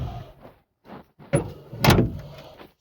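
Car door on a 1953 Buick Super Sedan with worn weather stripping that fails to seal, swung and closed gently: a few soft handling clunks, then a firmer latch thud near the end, close up and alone.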